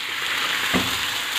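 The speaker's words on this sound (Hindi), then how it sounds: "चिकन को हम 5-6 मिनट के लिए इसमें फ्राई करते हैं" Chicken pieces fry in a pan for street-style biryani, a short, steady close-up hiss of sizzling oil with one slight surge midway.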